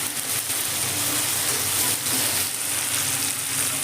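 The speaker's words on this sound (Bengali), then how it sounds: "গ্যাসের ফ্লেমটা কিন্তু বাড়িয়ে রেখে চিকেনগুলোকে খুব ভালো করে এবার ফ্রাই করে নেব" Chicken pieces fry in hot oil over a high gas flame, giving a dense, even sizzle that runs loud and unbroken throughout.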